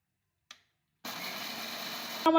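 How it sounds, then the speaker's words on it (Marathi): A kitchen mixer grinder grinds pearl millet at home: a single click, a second of silence, then the motor starts in a loud steady whir that runs to the end, with a brief tonal whine at the close. "आपलं घरीच बारीक करणार आहे इथं मिक्सरवरती एक सव्वा किलो असेल ही बाजरी"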